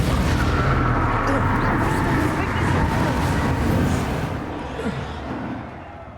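A Bombarda explosion spell goes off in the Hogwarts Legacy video game, a loud, rumbling blast that fills the first few seconds and then slowly fades away.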